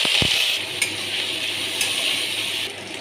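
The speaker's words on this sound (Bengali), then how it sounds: "এবার আলুগুলো ভেজে নেব।" Potatoes fry in hot oil in a pan along with dried red chillies and whole garam masala, giving a steady, close sizzle with a couple of brief clinks of a utensil near the start.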